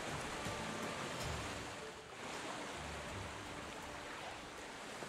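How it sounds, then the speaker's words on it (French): Steady broadband rushing water from a small video game waterfall in Pokémon Scarlet, splashing continuously, with a low rumble underneath and no voices. "des petites cascades"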